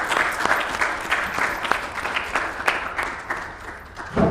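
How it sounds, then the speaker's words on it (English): A conference audience applauding panelists after a session on private and public sector collaboration, sustained steady clapping from a crowd that tapers slightly near the end. "Let's give them a round of applause, please."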